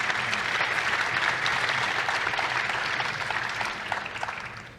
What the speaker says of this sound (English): So perhaps you can give them a round of applause.